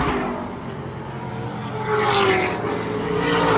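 Speed mod race cars at a racing event coming up on lap traffic, with several engines roaring and rising in pitch as they pass at a distance, swelling toward the end.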